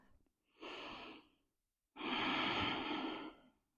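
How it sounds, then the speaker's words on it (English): Two slow, deep breaths in a yoga child's pose, a shorter soft inhale followed by a longer, fuller airy exhale, close and alone in a quiet room. "Take a full round of breath"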